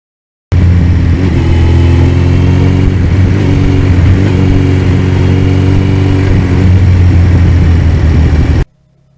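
A loud, steady 1982 Suzuki GS1100E motorcycle engine hums continuously at cruising speed on back roads for several seconds, then cuts off abruptly near the end.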